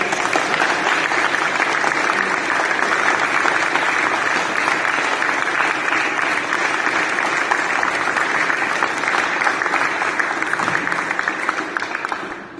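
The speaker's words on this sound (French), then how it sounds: "je pense que vous pouvez encore les applaudir très fort" A large audience at a princely coronation ceremony applauds the artisans, loud, dense and continuous clapping that holds steady throughout before tapering at the very end.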